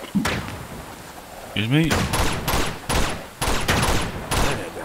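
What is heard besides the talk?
shotgun fire in video game Uncharted 2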